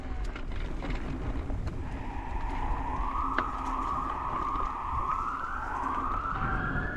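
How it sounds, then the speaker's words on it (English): Several emergency vehicle sirens wail from behind a trail at Enterprise South Nature Park, rising and falling tones that grow steadily louder over a rushing background. "It's behind me. A bunch of sirens."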